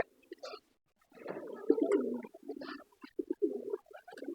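Low, burbling coos from Golla pigeons come in short, uneven bursts with brief pauses between them, fairly close and quiet in an otherwise still space.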